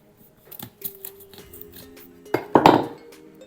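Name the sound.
knife chopping onion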